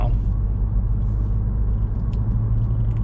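A 2014 Ford Focus SE hatchback rolls along and turns, its steady low road rumble and engine drone filling the cabin continuously and loudly, with no talk.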